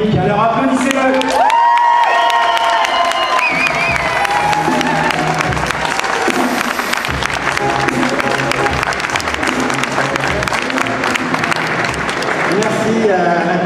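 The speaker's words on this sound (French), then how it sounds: "Alors applaudissez-le." A crowd applauds and cheers loudly at a French product launch evening for Lick, a dense, sustained wall of clapping with whoops, carrying on steadily with voices mixed in.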